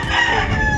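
Rooster crowing at a gamefowl farm near conditioning pens, a loud, close, sustained call with strong harmonics heard alone.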